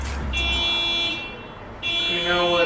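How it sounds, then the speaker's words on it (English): A car alarm beeping outdoors, steady high-pitched electronic tones that cut out briefly mid-clip and then resume, fairly loud and close with nobody talking over it. "Your car alarm is beeping, sir."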